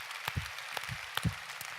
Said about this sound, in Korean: 우리 기쁨의 감사의 박수를 한번 드리겠습니다